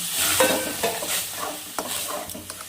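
Lightly fried food sizzling in a pan as a little water goes in, with scraping stirs and soft clatters over a steady close crackle, no voices.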